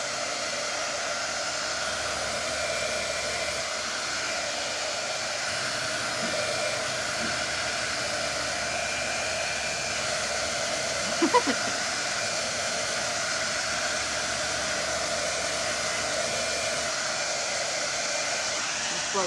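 Hair dryer blowing steadily and fairly close for the whole stretch, a continuous broadband whoosh with a faint brief knock near the middle and no talking.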